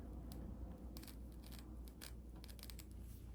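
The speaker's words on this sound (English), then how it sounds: "Take my scissor and cut the back" Scissors snip through the lace at the back of a glued frontal wig, heard as a few faint, sharp cuts at irregular intervals over a soft background hiss.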